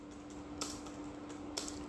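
Computer keyboard keys tapped while entering C code for a pointers exercise, with soft, steady clicking and two sharper, louder keystrokes standing out above a constant faint electrical hum.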